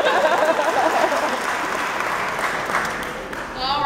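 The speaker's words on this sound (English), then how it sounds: "Go ahead and clap." An audience at a Lumbee pageant talent segment claps steadily, a dense patter of applause that fades slightly before a voice speaks at the end.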